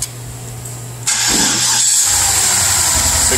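A Cadillac Northstar V8 engine, just resealed, cranks briefly, catches and settles into a loud, steady idle with a rough, throaty rumble close by.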